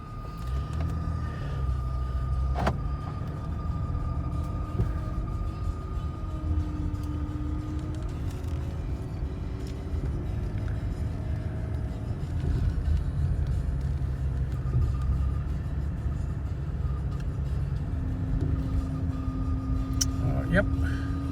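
A Mercedes E320 with 191,000 miles is driven on a hot day, its engine and road noise giving a steady low rumble throughout, with a few faint tones and clunks along the way.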